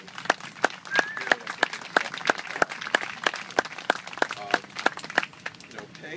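An audience at an urban design case study presentation gives a round of applause, a steady patter of many hands clapping with a few louder nearby claps standing out over several seconds.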